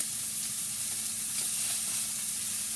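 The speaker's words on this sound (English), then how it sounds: "I'm going to flip over my pork balls." Pork balls fry in a pan with a dense, constant close-up sizzle and a faint low hum, no voices over it.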